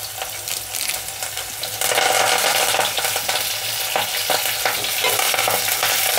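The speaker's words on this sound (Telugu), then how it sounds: "పచ్చిమిరపకాయ ముక్కలు, పచ్చిమిరపకాయలు, ఉల్లిపాయలు కొద్దిగా వేగనిద్దాము." Onions, green chilies and curry leaves fry in a pan with garlic for a gongura chana dal curry, giving a steady close sizzle with stirring scrapes that grows louder and denser partway through.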